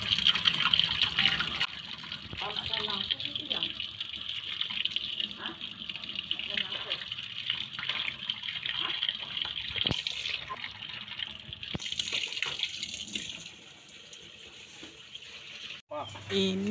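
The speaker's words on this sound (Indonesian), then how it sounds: "saya cuci bersih dulu sebelum kita proses untuk" Bemban tubers are rinsed clean under running water, a steady gushing splash with intermittent clatter and handling noises, while a person speaks at times over the flow.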